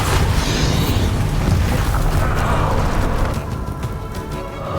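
A loud, dense blast from the Bombarda spell in Hogwarts Legacy, a broad rumbling explosion that holds heavy and sustained for several seconds before easing slightly toward the end.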